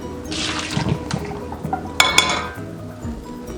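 Keto coffee is poured into a cup, a close liquid stream with light clinks of ceramic and utensils and a sharper clatter midway, with no talking.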